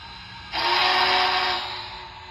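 A single sustained whistle blast from a Broadway Limited Imports Big Boy 4014 model steam locomotive's Soundtraxx sound decoder, bright and breathy, lasting about a second before cutting back to a low hum.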